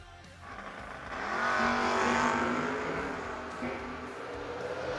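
A Camaro drag racing car accelerates down the strip at a No-Box 660 shootout, its engine roar swelling loudly then receding into the distance, with faint crowd noise behind it.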